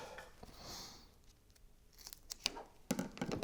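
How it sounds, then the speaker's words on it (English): Scissors cutting paper for a pumpkin spice shaker card: a few close, crisp snips and slicing rasps, with a brief pause between cuts and handling rustle after. "let's get the scissors"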